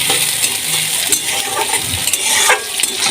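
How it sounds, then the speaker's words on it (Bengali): Chopped onion frying lightly in a hot pan gives a steady close sizzle, with stirring scrapes and a few small utensil clinks against the pan. "আমি পেঁয়াজটা হালকা করে আমি ভেজে নেব।"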